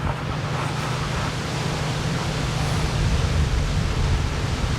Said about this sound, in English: That wind's just blowing right off.